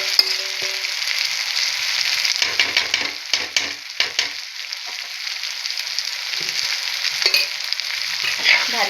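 Chili thecha with turmeric frying over a low gas flame, a steady close sizzle broken by scraping stir strokes and clinks of a spatula against the pan, with no talk.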